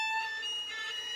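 A violin harmonic pitched too high sounds thin and unstable, a wavering, scratchy high tone that shifts partway through, played close and alone.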